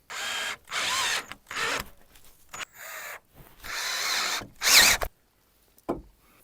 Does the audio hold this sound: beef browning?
no